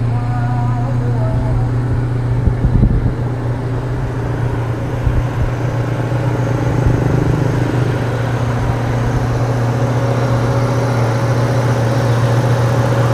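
An Opel Blazer engine idles with a steady, even low hum heard up close from the engine bay, continuous throughout, with someone talking over it.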